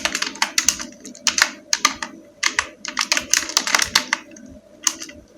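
Rapid bursts of keystrokes on a computer keyboard while typing a village name into a Word biodata form, close and clear, with short pauses between words and no speech.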